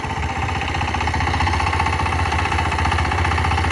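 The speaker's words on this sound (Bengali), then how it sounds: "আমার কাকা পাওয়ার টেলার চালাইতেছে" A DF power tiller ploughs a field under an elderly driver, its engine hammering with a steady, rapid knocking chug at close range, loud and unbroken throughout.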